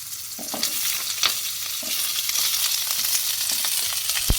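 Chopped onion, green chili and curry leaves sizzle in hot oil in a kadai, a steady close frying hiss with occasional sharper pops and a few stirring scrapes, no voices.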